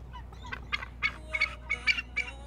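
Wild birds and waterfowl in northern Alberta wetland country calling in a quick series of about seven sharp, gobbling, honk-like bursts, fairly close and clear over a low background hum, with no talking.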